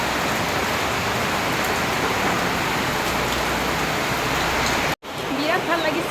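Rain pours in a dense, continuous hiss before a sudden break, after which a voice speaks over a lighter patter.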